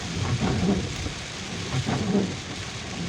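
Steady rain falls with low rumbles of thunder rolling underneath, a continuous close wash of drops with a couple of deeper swells.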